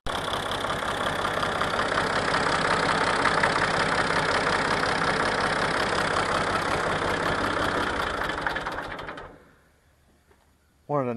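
A tractor engine idles loudly and steadily close by with a rough rhythmic knock, then shuts off and falls quiet near the end before a brief restart burst.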